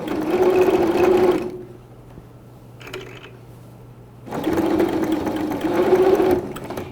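A sewing machine topstitches along the edge of a simple baby bib in two loud, close, steady runs, with a quieter pause between them that holds a few light mechanical clicks.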